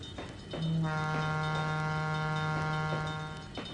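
Level crossing signal in the Trainz 2022 train simulator game, a steady loud electronic tone with stacked harmonics starting abruptly and sustaining for several seconds before easing off, with no talking.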